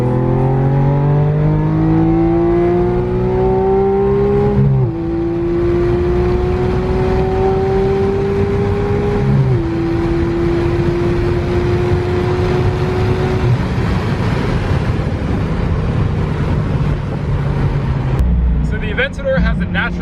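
A Lamborghini Aventador Roadster's naturally aspirated V12 on race fuel with a straight-piped exhaust roars up through the gears, climbing in pitch and dropping at each shift, then settles into a heavy drone.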